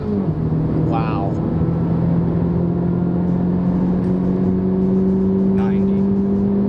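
A 2018 Honda Civic Type R with a four-cylinder engine accelerating onto a highway, heard from inside as a steady, loud drone with a rising engine tone, while occupants exclaim briefly over it.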